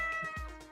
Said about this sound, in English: there's so many like weird sound effects. Okay, the meow.